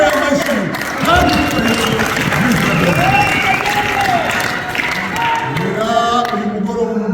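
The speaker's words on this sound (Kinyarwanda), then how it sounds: "Dukorere amashyi" A congregation claps at a Saturday church service in the Tabernacle of Louisville, with loud, dense applause filling the room and a voice speaking or singing over it.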